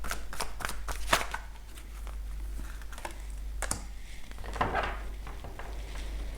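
Tarot cards being shuffled and drawn, a series of quick papery riffles and slaps with a few sharper snaps, close and fairly loud over a steady low hum.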